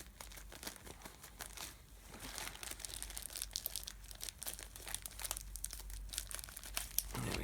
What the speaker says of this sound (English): we're going to just make a little snip at the top, and then we'll cut across the seam